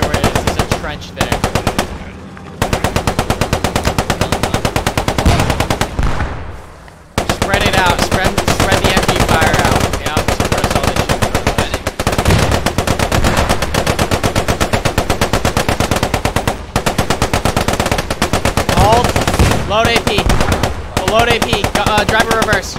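A Cromwell tank's machine gun fires in Post Scriptum, producing loud, rapid bursts that run almost continuously for over twenty seconds with a few brief pauses.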